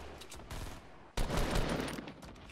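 Burst gunfire in Fortnite Battle Royale, Season 4, cracks out in two loud, close volleys of rapid shots, the second longer and stronger, with a brief pause between.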